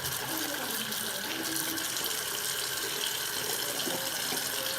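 A tap runs hard over a small removed internal part being rinsed clean, a loud continuous gushing stream into a sink that holds steady throughout, with no talking.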